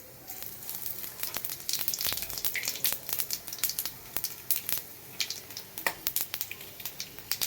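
Cumin, five-spice, chilli and bay leaf tempering fry in hot oil in a kadai, giving quiet, irregular crackles and pops over a soft sizzle, with no talking.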